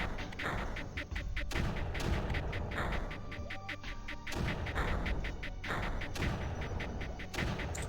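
Mortar fire in the strategy game Creeper World: repeated heavy booming shots roughly every one to one and a half seconds, loud and close, forming a steady thudding barrage.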